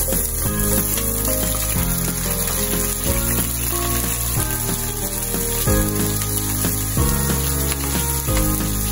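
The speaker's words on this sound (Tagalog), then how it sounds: "Pag mainit na yung ating mantika, igisa na natin yung ating sibuyas." Onions saute in hot cooking oil for Filipino ginisang sayote, a steady close sizzle running continuously beneath prominent background music.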